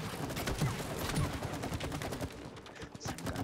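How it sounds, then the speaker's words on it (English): Slime gun fired in the video game It Takes Two, a dense run of rapid wet bursts in steady succession, loud and continuous throughout with no talk. "You did get a slime gun."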